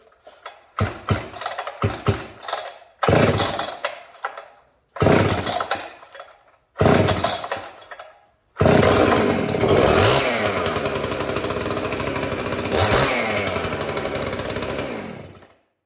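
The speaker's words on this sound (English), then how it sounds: "it's a great running saw. And I can start up for you guys right now." A firewood chainsaw is pulled over in several short, loud bursts that sputter and die, then it fires and runs at a steady, harsh, close roar before cutting off abruptly.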